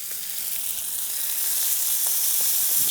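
Partridge searing in a ripping hot pan, giving a steady, bright, continuous sizzle that holds close and fairly loud throughout, with faint small crackles and no voices.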